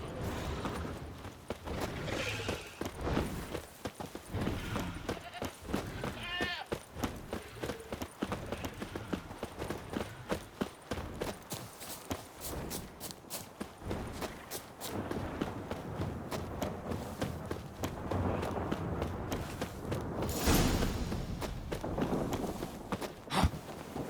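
Horse hooves from The Witcher 3 clop along in a steady walking rhythm, partly masked by a busy game soundscape with combat effects and scattered bursts of noise throughout.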